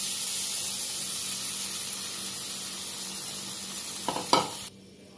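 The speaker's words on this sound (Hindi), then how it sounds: "और अब कढ़ाई में हम ये आलू डाल देंगे।" Potatoes sizzling in hot oil in a kadai, a steady close frying hiss that runs unbroken, with a brief clatter and louder burst near the end before it suddenly drops away.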